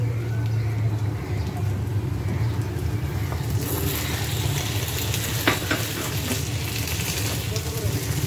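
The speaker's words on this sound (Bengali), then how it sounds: "এখন এই তেলের মধ্যে আমি ধুয়ে রাখা ফাইসা শুটকিগুলো ভেজে নেব।" Phaisa shutki, washed dried sea fish, frying in oil over fried onion, green chili and garlic, giving a steady close sizzle and crackle throughout with occasional stirring clatter.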